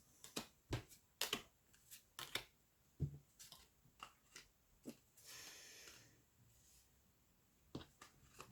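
Soft riffling and tapping of a deck of oracle cards being shuffled, faint and close, in a series of short crisp bursts with a longer smooth shuffle in the middle.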